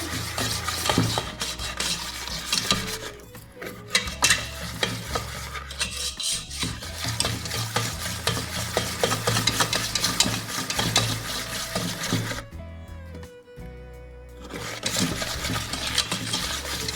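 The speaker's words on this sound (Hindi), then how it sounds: "थोड़ी थोड़ी करके हम शुगर ऐड करते जाएंगे और इसको अच्छे से बीट करते जाएंगे।" A mixer beats butter and icing sugar into a fluffy biscuit batter, a steady whirring churn with scraping and clinking against the bowl, running continuously with a couple of brief pauses.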